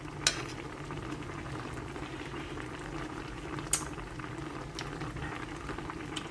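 Broth of paksiw na tawilis, small freshwater sardines, bubbles steadily in a pot, a soft continuous simmering gurgle with a couple of sharp clinks, fairly quiet and close.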